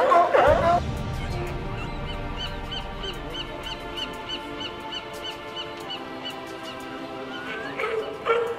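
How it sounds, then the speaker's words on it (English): Male sea lions bark incessantly while establishing breeding-season territories. Rapid, rhythmic barks repeat steadily in a chorus, with a louder burst at the start and again near the end. "the males, they bark incessantly when they establish territories"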